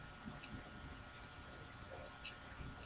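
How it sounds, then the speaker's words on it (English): Mouse clicks while placing notes in music notation software, a few light, sharp clicks scattered over a quiet background. "Click a note,"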